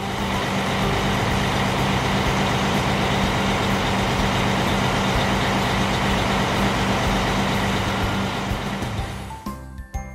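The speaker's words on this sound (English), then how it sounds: "Garbage truck." A garbage truck's engine rumbles loud and close in a dense, continuous roar that holds steady for several seconds before thinning out abruptly near the end.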